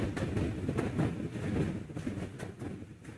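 A train rumbles past close by on the tracks in Manhattan, a steady low roar with rhythmic clacking pulses throughout.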